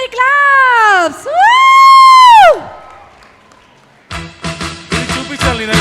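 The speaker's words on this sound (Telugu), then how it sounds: "Ho everybody claps" Whooping cries ring out loud at a school alumni reunion of a 1996-97 SSC batch, followed after a short lull by a burst of crowd clapping and cheering.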